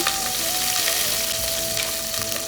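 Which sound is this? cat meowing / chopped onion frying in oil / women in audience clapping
chopped onion frying in oil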